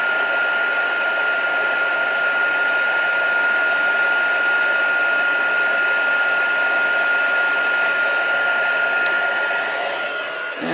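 Craft heat tool blowing on inked paper, a loud, steady high-pitched whine and rushing air drone held constant, with a brief change as it shuts off at the end.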